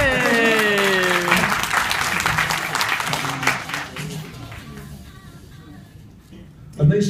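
Applause from an audience at a company anniversary event, dense clapping and cheering mixed with voices and music that gradually thins out toward the end.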